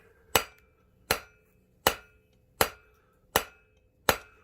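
Six evenly spaced hammer blows ring out on a copper bangle being forged, each a sharp metallic strike with a short fading ring, close and alone against near silence.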